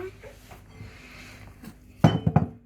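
Milk chocolate chip cookie dough is stirred in a bowl, giving soft scraping followed by a few sharp clinks of utensil against the bowl near the end, close and fairly quiet.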